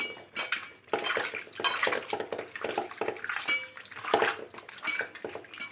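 Water splashes and sloshes continuously while meat is worked and rinsed by hand in a basin, with occasional clinks against the container.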